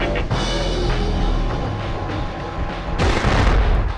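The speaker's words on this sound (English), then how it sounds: "Oh, that was the last rocket." Loud rocket fire and explosions from the video game Future Cop LAPD, a dense roaring blast sustained across the whole stretch with a fresh, heavier burst near the end.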